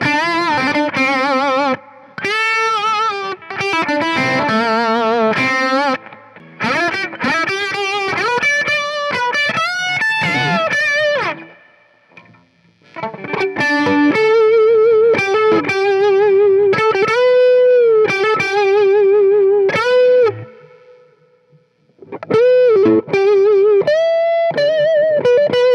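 A distorted electric guitar plays chords and riffs through a Marshall MKii Studio amp, loud and close, with a washy reverb tail in the brief pauses.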